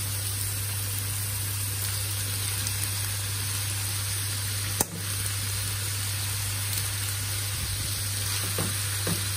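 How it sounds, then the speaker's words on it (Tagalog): Sliced ampalaya goes into a frying pan with meat, setting off a steady, even sizzle throughout, with a single sharp knock midway and faint stirring near the end, no speech. "Ilalaglag na natin ang ating slice na ampalaya."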